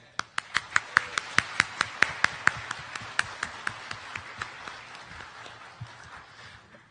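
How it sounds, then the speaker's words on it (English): Audience applause at a youth excellence recognition ceremony, heard as a steady run of sharp, fairly close claps from a modest crowd lasting several seconds and slowly thinning toward the end, with no talk over it. "Please give a round of applause for all of our distinguished guests."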